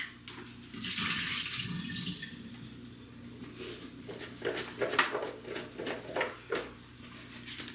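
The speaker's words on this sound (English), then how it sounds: "Same with the carrots. I cut them up. I'm gonna pour the water off." Water drains from a pot of chopped carrots into a sink, a strong gush at first that breaks into uneven splashes and drips, close by and without speech.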